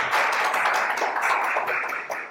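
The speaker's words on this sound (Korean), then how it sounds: "다 박수로 맞이해 주시기" An audience at a peace forum in Paju gives a speaker a warm round of applause, a dense and steady clapping that holds for a couple of seconds without talk.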